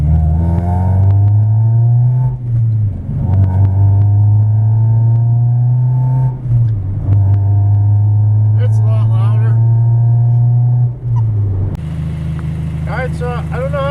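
An Acura RSX Type S with an OBX header, eBay Spec D exhaust and a large exhaust leak mid-car drones loudly from inside the cabin, holding a steady low hum with brief dips as the revs shift, while a voice talks faintly.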